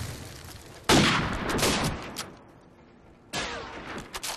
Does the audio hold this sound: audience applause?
no